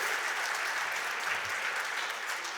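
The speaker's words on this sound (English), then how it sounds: "So please, a round of applause for President France and your team and all you do" A banquet audience applauds a university president at an alumni awards night, a continuous, even wash of many hands clapping, moderately distant and fairly soft, with no voices on top.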